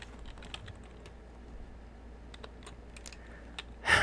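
Scattered clicky keystrokes on a computer keyboard, close and fairly quiet, in uneven bursts over a low background hum, ending with a louder clatter.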